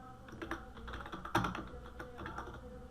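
Fingers type code on a computer keyboard in quick, irregular bursts of close, soft key taps, with one louder press midway and no talking.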